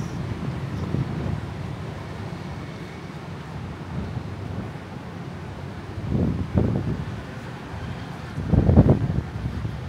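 Strong wind buffets the microphone in a quiet Vietnamese town, a steady low rumble broken by several louder gusts toward the end.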